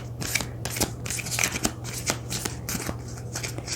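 Oracle cards shuffled by hand, a quick run of crisp riffling flutters and soft slaps in short bursts, close and fairly loud, with a steady low hum underneath.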